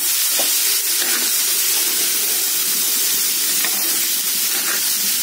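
Tender ivy gourd pieces frying in a pan, a steady dense sizzle and hiss broken now and then by soft scraping stirs, close and continuous with no talk.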